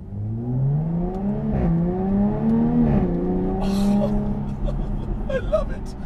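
Jaguar F-Type V6S coupe engine revving through center exhausts, a rising and falling close-miked growl with throttle blips, someone talking over it.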